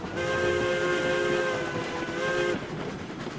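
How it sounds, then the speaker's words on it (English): A steady rumbling steam train sound from the video game RailRoads Online, with a sustained whistle-like tone running through it, continuous and fairly loud, with no voices. "We can definitely move the train now."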